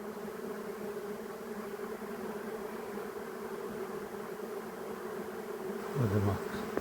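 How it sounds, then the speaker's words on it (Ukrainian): Honey bees swarm and drone around an open hive during queen rearing work, a steady dense buzz filling the whole stretch, swelling slightly louder near the end as frames are handled. "Шукаємо матку і будемо зараз підбирати бджіл."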